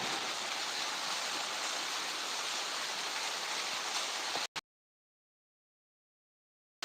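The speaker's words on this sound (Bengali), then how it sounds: "প্রাঙ্গনে প্রচুর বৃষ্টি হচ্ছে" Dense, steady hiss of heavy rainfall in Mymensingh, close and loud, runs for several seconds and then cuts off abruptly into silence.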